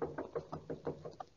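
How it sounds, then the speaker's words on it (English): Someone raps several times on a door in a radio drama, a steady run of muffled knocks at an even pace that sounds fairly distant and soft. "Knocking. The door over there."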